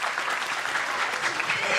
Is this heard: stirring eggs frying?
no